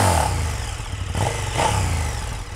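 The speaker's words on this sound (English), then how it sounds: "Nice thumping V-twin." A KTM SuperDuke 1290 R V-twin with stock exhaust, warm rather than cold, thumps loudly up close with a couple of short rises in revs over a rumbling idle.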